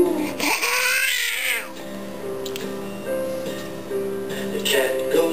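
A person imitates a cat's meow in a sing-song voice, one drawn-out wavering call up close, followed by quieter speech-like murmuring.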